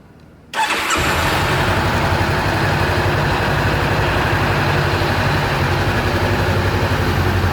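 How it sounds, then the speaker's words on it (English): A 2016–2017 Honda CBR500R motorcycle engine cranks and catches after a brief silence, then settles into a steady, loud, close idle that runs on without interruption. "Then what you do is you start the engine."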